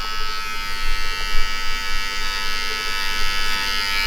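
Electric hair clippers buzz steadily and up close during a self-cut haircut, shaping up around the ear and tapering a fade at the back. The hum stays loud and continuous with slight wavering.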